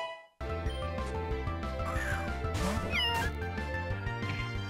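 Cat-like Pokémon cry from the Pokémon Uranium game, a few rising and falling chirpy calls over steady, looping battle music throughout, with no talking.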